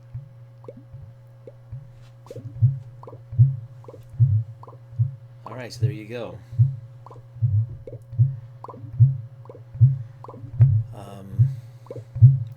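Fish sound effects in a Unity video game, a regular series of soft drip-like plops that vary in pitch, heard through speakers over a low steady hum, with a person talking briefly.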